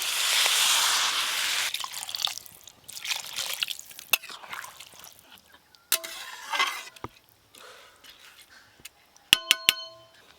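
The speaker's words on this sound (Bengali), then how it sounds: "এবার জল দিয়ে দেব।" Water poured into a pot of Kashmiri pulao on a clay stove, an initial loud rushing pour that fades into trickles and drips, followed by a few sharp metallic clinks near the end.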